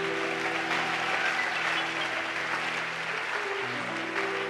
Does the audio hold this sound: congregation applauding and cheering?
yes